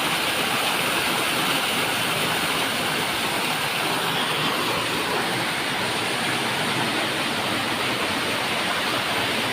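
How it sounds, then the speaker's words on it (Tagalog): Steady, dense rushing roar of falling water, continuous and loud throughout with no voices. "Ito ngayon ang bukal ay yung Talon."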